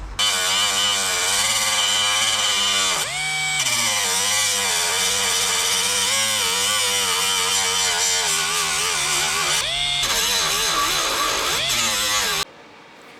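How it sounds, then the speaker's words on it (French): An angle grinder meuling down weld spots on a replacement rear wing of a BMW E36, a loud continuous whine with wavering pitch, two short breaks where the disc lifts off, then stopping near the end. "je vais meuler les points de soudure que j'ai fait"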